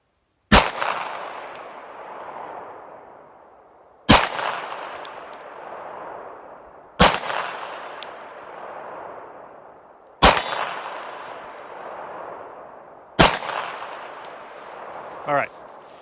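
Glock 17 pistol fired at a steel target, five evenly spaced single shots several seconds apart, each a sharp crack with a ringing metallic clang that decays slowly, heard close and loud.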